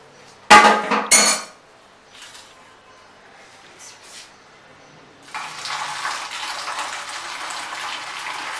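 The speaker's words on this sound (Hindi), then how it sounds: "ये इसका तरीका है डालने का परात में, ठीक है। ऊंचा करके डालना है ताकि झाग बने।" Milk is poured from a height into a wide pan to froth while setting homemade yogurt. Two sharp metallic clanks come first, then a soft pause, then a steady splashing pour that runs to the end.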